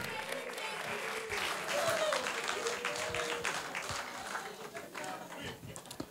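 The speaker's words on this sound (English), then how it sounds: "If you want to clap, clap now." Sustained applause fills a comedy show hall, steady crowd clapping with scattered voices and cheers mixed in throughout.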